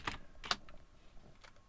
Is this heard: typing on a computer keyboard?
yes